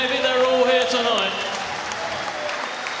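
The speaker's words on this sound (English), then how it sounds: "let's get a round of applause for both brilliant fighters who gave it their all here tonight" A boxing arena crowd applauds both fighters after a sixth-round stoppage, loud sustained clapping with cheering and a ring announcer's voice fading under it.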